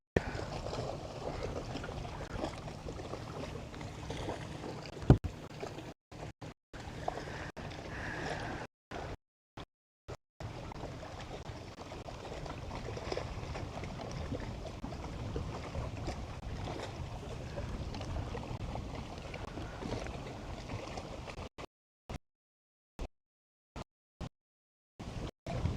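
An outboard motor on a small fishing boat runs steadily on Patoka Lake, a continuous low engine drone mixed with wind noise and water, broken by several brief dropouts toward the end.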